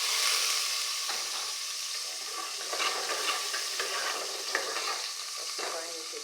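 Diced onions sizzle steadily in a hot pan for jollof sauce, with occasional scraping stirs cutting through the continuous hiss.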